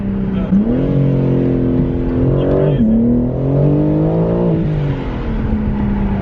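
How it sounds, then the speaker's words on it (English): A BMW G80 M3 Competition on a test drive, its engine droning loud and close from inside the cabin with pitch rising and falling through revs, while people talk over it. "All right, we're in Roll's G80 now. Going for a test drive"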